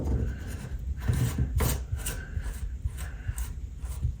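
Screwing the plastic cap back onto a Delta 1300/1400 series shower cartridge with greased threads makes a close, steady rasping and rubbing, with small scraping bursts as the cap turns.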